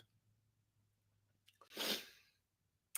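A single close, sharp sneeze after a quick intake of breath, in an otherwise quiet room.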